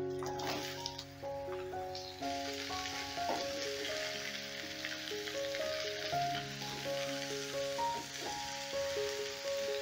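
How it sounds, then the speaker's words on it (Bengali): Cut pumpkin goes into a pan of lightly fried garlic and onion, giving a soft continuous sizzle with a few stirring sounds, faint and close, with a steady tonal background running beneath. "এবারে দিয়ে দিচ্ছি কেটে ধুয়ে রাখা কুমড়ো।"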